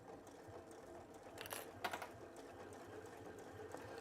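A Baby Lock sashiko quilting sewing machine stitches a tote bag seam, a faint, quick mechanical whir with a rapid needle patter that runs continuously with no voices.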